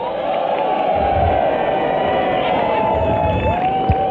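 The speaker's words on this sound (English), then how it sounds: "Give them a cheer." A crowd cheers, whoops and applauds steadily at the Melburn Roobaix 2023 prize ceremony as a couple dressed as Sir Les Patterson and Dame Edna is called up, the dense, loud roar sustained throughout.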